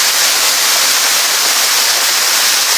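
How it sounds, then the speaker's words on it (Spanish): Waterfall at Las Pinas, San Carlos: a loud, steady, hissing rush of falling water, constant and unbroken throughout, with no voices. "Una cascada"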